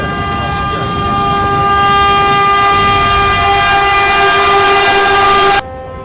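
A fast train approaches on the tracks at a crossing, its horn blaring in a loud, sustained tone over the rumble of the wheels before cutting off abruptly.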